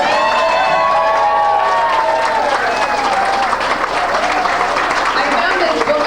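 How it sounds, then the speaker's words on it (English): A class-of-1966 reunion crowd claps and cheers, with lively voices and calls mixed through the sustained applause in a busy room. "I think we should give them a round of applause."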